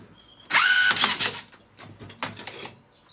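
A Makita 18V rebar tying tool runs a short mechanical whir-and-click cycle as it wraps and twists wire around crossed 16mm rebar, followed by lighter clicks and rattles, close and loud.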